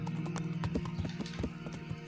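Horse hooves clip-clop in the medieval game Kingdom Come: Deliverance, a quick steady rhythm of close, crisp hoofbeats over a low ambient drone.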